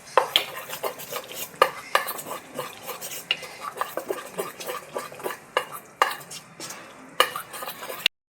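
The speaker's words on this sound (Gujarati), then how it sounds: "એક ચમચા ઈનોને એક્ટિવેટ કરવા માટે આપણે ઉપર થોડું પાણી રેડીશું અને હવે મિક્સરને બરાબર મિક્સ કરી લઈશું." A spoon stirs semolina dhokla batter with Eno and water in a bowl, a close, quick rhythm of scraping and clinking strokes repeating irregularly, with brief sharp taps against the rim.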